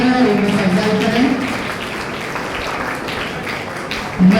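Applause from the audience at an award ceremony for school toppers in Raichur, a dense, steady patter of clapping that continues throughout, with voices heard under it.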